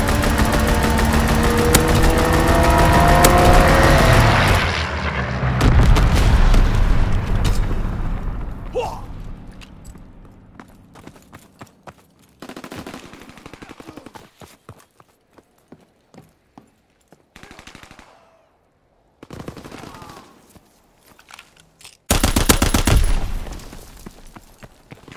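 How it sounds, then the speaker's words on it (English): Gunfire from a strafing run in the Call of Duty: WWII multiplayer match on the Airship map, loud sustained bursts and rumbling booms at first, then scattered gunshots and explosions in short bursts with quiet gaps between them. "Strafing the target."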